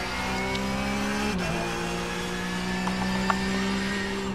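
Porsche 911 GT3 Cup race car engine in iRacing at Suzuka, revving hard from inside the car with a sharp gear shift and continuous loud drone, faint tyre noise, no talking.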